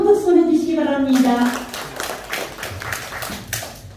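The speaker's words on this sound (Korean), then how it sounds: "큰 박수 보내주시기 바랍니다." An audience clapping for a child at a speech contest: a voice speaks briefly at first, then scattered bursts of applause follow in an indoor hall.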